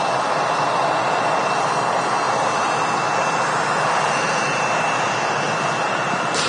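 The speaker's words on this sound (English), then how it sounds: "Another EasyJet coming in here as well. It's an A320neo from Kefalonia, Greek island." An EasyJet Airbus A320neo jet arriving to land produces a continuous, loud roar of engine noise with a faint whine, steady throughout without talk.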